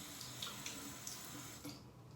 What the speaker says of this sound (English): I usually put water in the sink, and then I kind of rinse my razor